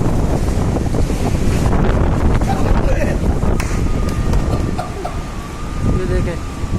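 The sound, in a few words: heavy rain with strong windstorm in Karachi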